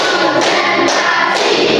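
Many children in a classroom clap in unison in a counted rhythmic pattern: steady, loud, close-up bursts of massed hand claps changing about every half second, blended with young voices.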